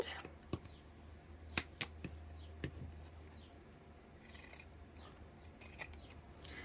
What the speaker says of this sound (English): we're going to snip off our excess at each end